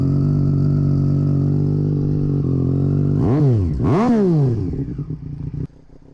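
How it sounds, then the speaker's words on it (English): A 2020 Triumph Street Triple RS with a loud aftermarket-style exhaust idles steadily up close, then is blipped through two sharp revs that rise and fall before cutting off abruptly. "that is a much louder exhaust"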